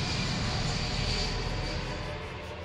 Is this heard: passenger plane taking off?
yes